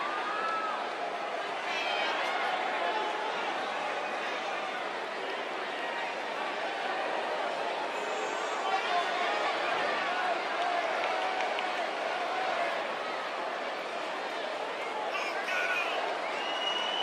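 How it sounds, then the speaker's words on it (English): A steady crowd roar with cheering and scattered claps fills a WWE 2K19 Raw women's championship match set in Houston, held at a constant level throughout with voices mixed in. "give this Houston crowd credit for being on their feet almost the entire match"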